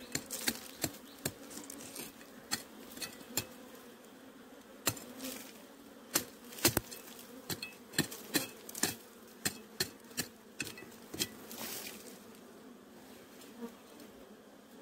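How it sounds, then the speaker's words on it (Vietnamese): Bees buzz around a large nest with many combs in a bamboo forest, a continuous insect drone close by, broken by frequent sharp knocks and taps. "Tổ ong này rất là khủng"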